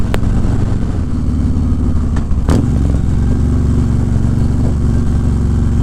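A 2019 Harley-Davidson Fat Boy motorcycle engine runs loud and close with a deep, steady rumble and one brief rev rising out of it.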